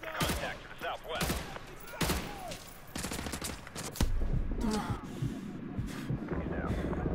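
Suppressing gunfire rattles through a Call of Duty Modern Warfare 2 firefight, with loud overlapping bursts and single cracks from several guns, close and continuous, under wind and radio chatter.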